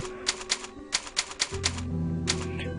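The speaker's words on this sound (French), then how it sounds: "la première machine à écrire qui va nous permettre de sauvegarder" Typewriter keys clacking at a save point in the video game Resident Evil 4, around ten sharp strikes in uneven bursts, followed by a sustained low musical tone underneath, loud and close with no talking.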